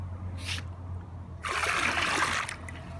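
Copper sulfate (bluestone) solution is poured into a swimming pool, giving a short trickle followed by a louder, steady splashing pour that lasts about a second before fading.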